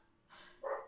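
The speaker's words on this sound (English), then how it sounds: "That's my neighbor's dog." A neighbour's dog gives a single short bark or yip, heard faint and at a distance, rising near the end of a brief, quiet moment.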